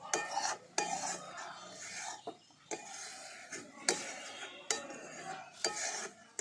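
A spoon works raw mango pulp mixed with spices in a bowl, producing repeated soft scraping and clinking strokes at a steady, unhurried rhythm, close by and moderately quiet, with no voices.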